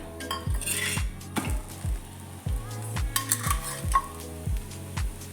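Methi thepla flatbread roasting in oil on a griddle, a low frying hiss beneath repeated scraping and clinking of a spatula against the pan, busy and close with frequent metallic knocks.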